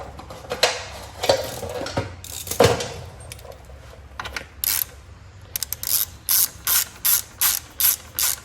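A ratchet wrench drives bolts through a housing during an LS engine swap, with scattered metallic clanks of tool handling first, then a steady run of rapid ratcheting clicks in even, repeated strokes up close.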